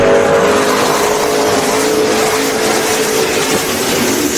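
A drag racing car makes a pass at Sick Week 2024: a loud, sustained engine roar with no let-up, close and dominant for the whole stretch.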